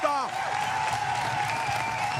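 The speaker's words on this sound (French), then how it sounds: "On va l'applaudir encore très fort, s'il vous plaît, notre invité." Studio audience applauding a guest on a French-language talk show, steady clapping filling the room with a host's voice and music tones audible over it.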